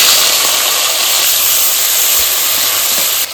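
Ginger and tomato dropping into hot oil already seasoned with bay leaves and cumin for a Bengali pumpkin-greens dish, giving a loud, steady, hissing sizzle that holds evenly throughout, with no voices.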